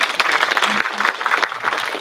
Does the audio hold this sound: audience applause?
yes